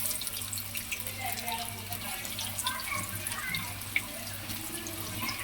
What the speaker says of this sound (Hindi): अब हम इसमें डालेंगे पकौड़े